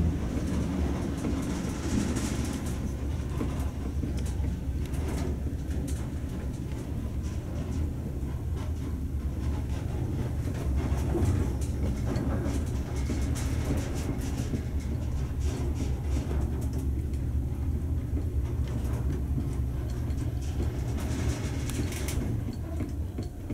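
Westinghouse traction elevator, apparently still on its original controller, running with a steady continuous low rumble and mechanical rattle throughout, fairly loud and without talk.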